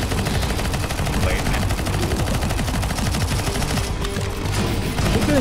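Rapid automatic gunfire from a CS:GO zombie escape match, dense overlapping bursts running continuously and loud throughout, with faint game noise beneath.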